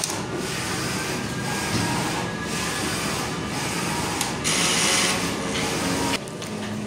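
A Mutoh sublimation printer whirs and grinds through a head cleaning cycle, with steady motor noise, brief louder bursts and shifts in pitch, close and fairly quiet.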